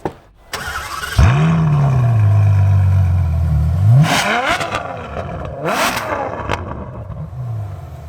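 Ferrari F12 V12 engine cranks and fires with a loud bark, settles into a high idle that drops, then rises through two sharp revs, close and powerful.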